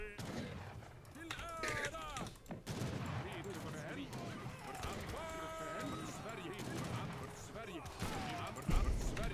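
Musket fire from arquebusiers in Age of Empires III: Definitive Edition, with repeated gunshot cracks and volleys in a busy battle mix of game effects, while a voice talks over the action throughout.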